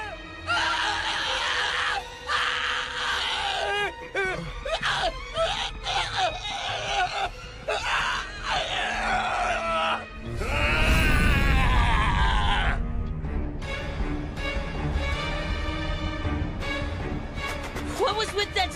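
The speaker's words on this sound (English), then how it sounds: "What was with that scream?" A person screams loudly for several seconds in an animated scene, amid grunts, groans and other voices, with dramatic music and commotion around it.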